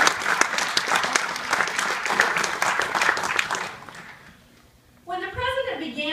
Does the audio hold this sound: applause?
yes